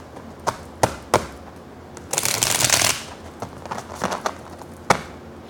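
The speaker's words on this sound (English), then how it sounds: "2 more really good shuffles." Someone shuffles a deck of Ostara Tarot cards by hand: a few sharp single snaps, then a longer riffling burst, then more scattered taps and one last crisp snap.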